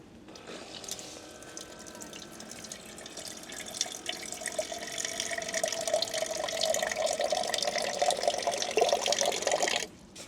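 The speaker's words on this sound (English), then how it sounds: "I've got my water fountain, so I can turn that on and just hope I don't miss." A camping water fountain pump pours water in a steady stream into a Jetboil Zip pot, a close, continuous splashing trickle that rises in pitch as the pot fills and then cuts off abruptly.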